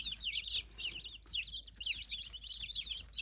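Baby chicks shipped from a hatchery chirp in steady, high, rapid peeps close by, with no talking over them.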